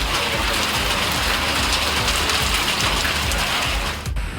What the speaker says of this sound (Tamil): விருதுநகர் மாவட்டம் சிவகாசி சுற்றுவட்டார பகுதிகளில் காற்றுடன் மழை பெய்தது